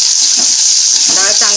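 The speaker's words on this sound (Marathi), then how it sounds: "आता आपण कांदा टाकून घेऊया." Chopped onion hisses and sizzles as it drops into hot oil for a tempering, a bright, steady frying crackle up close, with faint stirring and a brief voice near the end.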